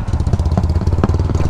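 A motorcycle engine chugs close by in a fast, even putter while being ridden up a steep, partly cemented rural road in Lipit, Sison, Pangasinan.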